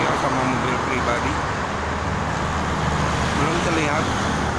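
Dense highway traffic on a toll road near Jakarta, mostly trucks and private cars, forms a steady, loud, continuous roar of passing vehicles with someone talking over it.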